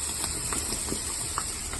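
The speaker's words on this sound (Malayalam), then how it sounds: "ഞാൻ ഡ്രൈ ഫിഷും കൂടി പൊരിക്കുകയാണ്" A steady, loud hiss of dry fish frying fills the clip, with faint crackles and small pops scattered through it.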